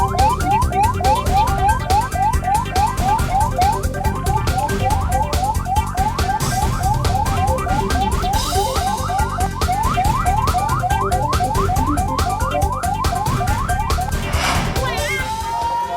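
A loud, continuous wailing ambulance siren cycles rapidly up and down in pitch, repeating steadily throughout amid traffic noise, the ambulance stuck in a jam on a road blocked by protesting workers in Banten, Indonesia.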